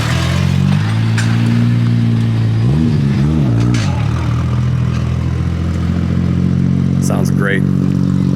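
Nissan GT-R pulling away at a large GT-R car meet, its engine rumble rising and wavering as it revs off and fades, with crowd chatter and voices running underneath.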